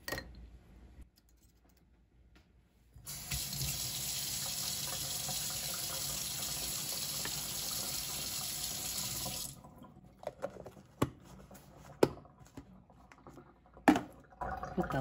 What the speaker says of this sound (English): give my pieces a little rinse